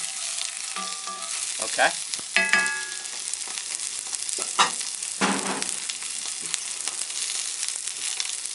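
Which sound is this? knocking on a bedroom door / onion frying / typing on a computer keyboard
onion frying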